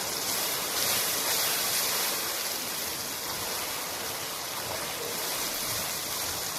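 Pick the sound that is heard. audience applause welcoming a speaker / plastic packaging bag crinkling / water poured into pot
water poured into pot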